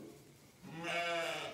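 A homestead sheep gives a single bleat, rising and wavering over about a second, fairly quiet and somewhat distant, with no talking.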